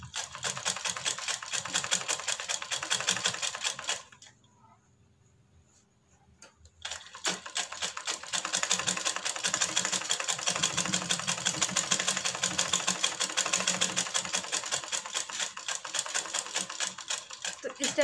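Sewing machine stitching a baby girl's hanky-cut frock, its needle chattering in a fast, steady close run that stops for about three seconds midway and then resumes.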